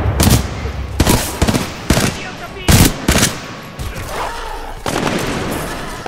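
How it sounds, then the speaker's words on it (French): A burst-fire weapon in Titanfall 2 fires in sharp, separate bursts, loud and close, about six or seven clusters spaced unevenly, followed by a steadier noisy stretch at the end. "C'est une arme à rafale, ça"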